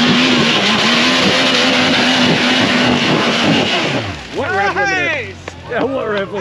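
A side-by-side UTV on a slick, icy winter hill climb revs hard against its rev limiter, loud and close for about four seconds, then drops back as excited voices take over.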